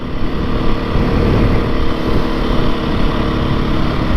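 A 2022 Beta 430 RR-S dirt bike under way on a road, its engine a steady, loud, close drone with only small swells in throttle, no pauses or voices.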